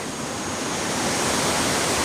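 A waterfall in early July, its flow lower than in winter, pours in a dense, steady roar of falling water, loud and close, with no voices over it.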